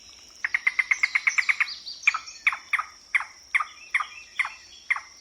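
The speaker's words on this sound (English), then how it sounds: "A yellow-billed cuckoo." A yellow-billed cuckoo calls in an Audubon Society recording: a quick run of about ten clipped notes, then a slower string of separate, descending knocking calls, clear and fairly close with no other sounds.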